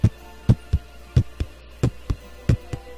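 A heartbeat sound effect pulses alone in steady double thumps, about ten strong low beats in three seconds, loud and close with no voices.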